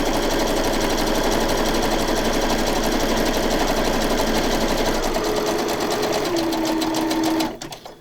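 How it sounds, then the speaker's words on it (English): A sewing machine runs steadily as it back stitches a flap on a pocket journal, a loud continuous mechanical whir that shifts pitch slightly near the end before stopping abruptly. "I'm going to back stitch it."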